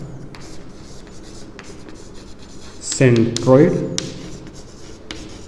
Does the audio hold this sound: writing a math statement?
yes